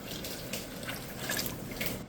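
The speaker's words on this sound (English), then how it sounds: "We're going to cover this with water, and then we're going to get it to a rolling boil." Water poured from a tap over beans in a cooking pot, being covered for canning; a soft, continuous splashing stream with faint trickles, fairly quiet and close, with no talking.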